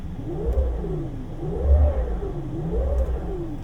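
Hyundai IONIQ 5 N electric car playing its simulated combustion engine sound in Ignition mode, rising and falling in three revving sweeps, steady and close with no talking.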